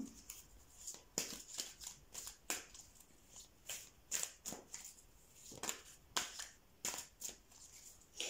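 Tarot cards shuffled and laid down by hand, a quick run of crisp papery slaps and flicks in uneven bursts, close and fairly quiet, with no voice over them.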